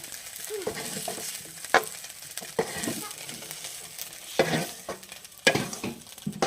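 Fried soybean chunks scooped out of a frying pan, oil still crackling steadily while a ladle scrapes and knocks against the pan in irregular bursts nearby.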